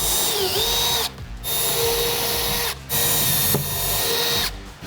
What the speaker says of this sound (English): So I'm just going to drill my 4 starter holes.